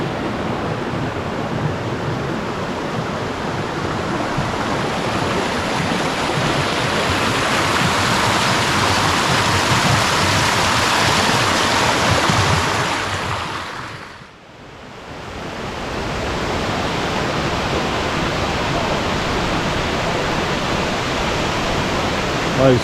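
A river at Litchfield National Park, heard as a loud, continuous rushing roar of flowing water close by that briefly dips in the middle and then returns just as strong.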